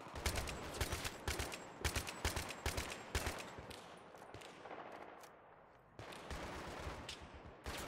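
Rapid automatic gunfire from the video game Battlefield 3, loud bursts and volleys in dense clusters with brief gaps, sustained throughout without voices.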